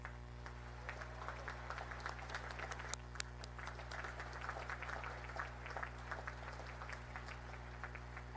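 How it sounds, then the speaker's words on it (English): A large audience applauds at the Naval Academy commencement, a dense, continuous wash of many hands clapping at a distance, fairly faint under a steady low electrical hum. "please join me in giving them a heartfelt round of applause"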